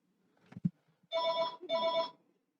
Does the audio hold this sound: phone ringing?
yes